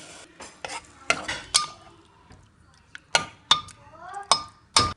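Spice powders and meat being sautéed in a pot for Malabar irachi kanji, heard as a string of sharp spoon-against-pot clinks and scraping stirs in irregular bursts, with a faint sizzle between strokes.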